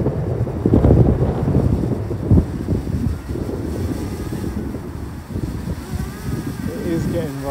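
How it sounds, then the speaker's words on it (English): Gusty wind buffets the microphone with low rumbling bursts, steady throughout, with faint voices mixed under it. "It is getting rather windy as well"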